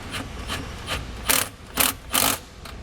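A socket ratchet tightens the nut on a ground stud that holds wire ring terminals, in a relay wiring kit install on a Blazer. It makes close, quick clicking rasps in short bursts, with the last few strokes louder and longer.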